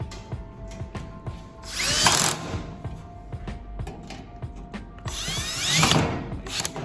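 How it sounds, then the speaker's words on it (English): A power drill drives screws into a blue roll holder assembly in two loud whirring bursts, each ramping up and winding down, separated by quieter clicks and handling noise. "just take a drill and tighten it in"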